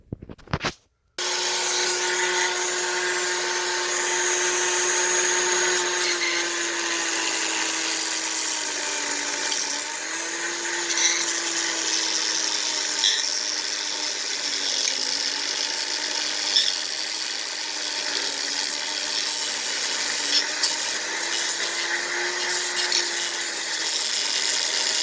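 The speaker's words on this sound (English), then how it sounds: "This would be a preferable way to just cut this around and then release that top inch" A power saw cuts steadily around a PVC toilet flange, a loud continuous grinding whine with a wavering pitch that runs nearly unbroken after a brief start and stop.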